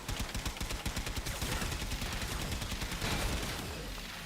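Rapid automatic gunfire from Warframe fills the whole stretch, a dense, loud run of shots in quick rhythm with no talking over it.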